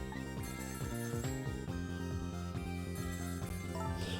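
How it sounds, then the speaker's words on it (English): A telephone rings in the video game Ghost Trick: Phantom Detective, a bright, repeating electronic trill that sounds loud and constant over layered musical tones, with no voices. "The phone is ringing."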